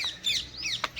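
Chicken clucking and chirping in short bursts close by, with a brief louder squawk near the end, against a faint background.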